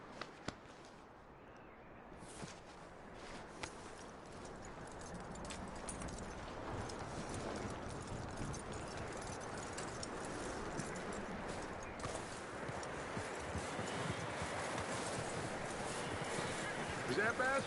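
Horse hooves clip-clop in Red Dead Redemption 2 as a steady walking rhythm under game ambience, with people talking over much of it.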